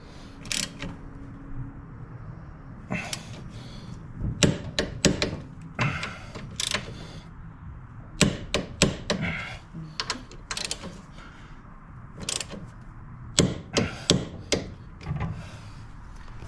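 Torque wrench tightening the motor mount bolts on a Harley-Davidson M8 Touring motorcycle to 45 foot-pounds, sharp ratcheting clicks in quick runs separated by pauses, with clanks of metal on metal, close and fairly loud.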